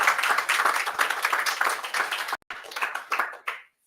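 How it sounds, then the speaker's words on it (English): Audience applause at an island resilience closing ceremony: dense, steady clapping that breaks off briefly, resumes, then fades out near the end. "thank you for the generous applause"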